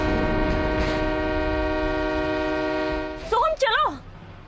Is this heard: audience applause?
no